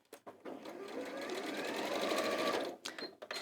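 A sewing machine runs close up in one short, continuous burst of rapid stitching, with brief handling noises just before and after it.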